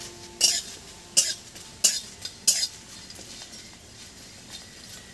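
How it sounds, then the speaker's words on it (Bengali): A small spoon tipping cumin and fennel seeds into a pan while cooking kasundi, four distinct bright clinks spaced under a second apart over a faint frying background. "ছোট চামচের 1 চামচ জিরে আর 1 চামচ মৌরি দিয়ে দিলাম"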